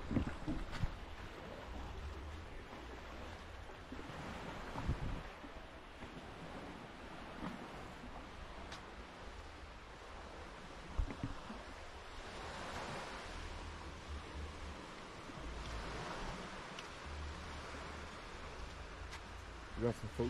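Surf rolls onto the beach at Luperon, Dominican Republic, a soft, distant wash of waves under steady wind buffeting the microphone, with occasional louder gusts and no talk.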